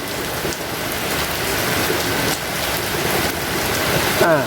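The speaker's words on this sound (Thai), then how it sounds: "แหมฟ้าร้องเลยนะครับ" Steady rain pours down in a continuous close hiss, with a faint low rumble of distant thunder underneath.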